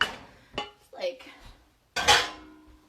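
A spatula scrapes out a blender jar in a home kitchen while making mac and cheese, giving a few short, close scraping and clinking bursts separated by brief pauses.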